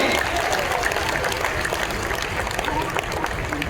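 Loud, dense applause from a large crowd welcoming the chief minister at a Basava culture campaign closing ceremony at Palace Grounds, Bengaluru, sustained and steady throughout with crowd noise mixed in.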